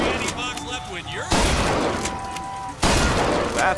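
Shotgun blasts in Bioshock Infinite, two sharp loud booms a second or so apart over game ambience and tonal effects.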